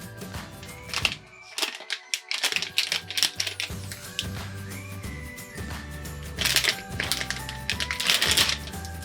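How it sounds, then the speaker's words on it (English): Super Mario Squishies blind bags are torn open and handled close by, making rapid crinkling plastic rustles and crackles in busy bursts, with a short quiet pause early on and low background hum. "And now let's open these blind bags."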